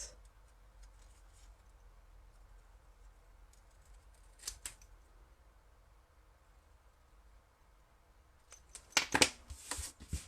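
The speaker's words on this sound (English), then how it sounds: "So I'm just trimming around this." Scissors trimming around a paper card banner for a stamped card: quiet, close snips with a soft crisp cut near the middle and a busier cluster of cutting and paper rustle at the end, otherwise near silence.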